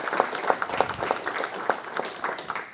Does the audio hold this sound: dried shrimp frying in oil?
no